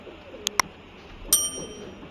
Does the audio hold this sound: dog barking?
no